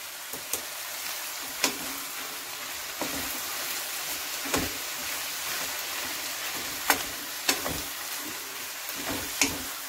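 Spinach sizzles steadily in a pot with a constant hiss, broken by occasional clinks and scrapes of stirring.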